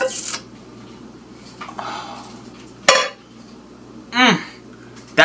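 Metal cooking pots, a big one and a small one, clank and scrape as they are handled, with a few separate loud clangs and a rattling scrape standing out over a quiet kitchen hum.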